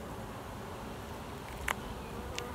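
Honey bees buzz at an open hive in a backyard apiary, a dense steady hum close by with a couple of brief sharp knocks, no voices.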